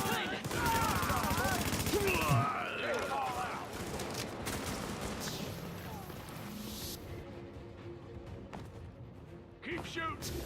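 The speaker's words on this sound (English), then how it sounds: "Keep shooting." Sustained gunfire in The Division, bursts and rattling fire running loud and dense for most of the stretch, tapering near the end, with game voices and chatter over it.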